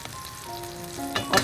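Food sautéing in oil in a pan for a desi-style scrambled egg dish, giving a steady close sizzle with a couple of louder crackling bursts near the end.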